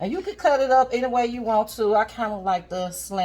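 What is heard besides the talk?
No everyday noise stands out behind the speech.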